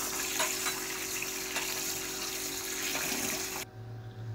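Rice is washed in a bowl under running water for a veg pulao, a steady close rush and splash that stops abruptly near the end, leaving a faint low hum.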